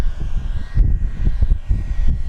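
Dynam PT-17 Stearman RC biplane flying an inverted pass, its small engine giving a rough, fluttering drone with wind buffeting, fairly loud and steady throughout without talking.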